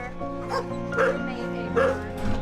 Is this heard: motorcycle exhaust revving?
no